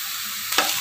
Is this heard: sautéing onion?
yes